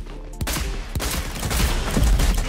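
Rapid bursts of gunfire from the video game Rogue Company, dense overlapping shots close and loud, continuing throughout with sharp separate cracks standing out.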